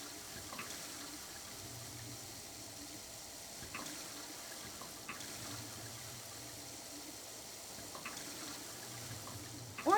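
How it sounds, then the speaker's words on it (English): A water fountain running in the video game Prey, with a steady, faint trickle and splash continuing throughout. "Why are there two water fountains?"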